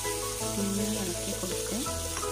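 Blended pizza sauce hits hot oil in a pan and sizzles steadily, with stirring scrapes and a faint background hum over a couple of seconds.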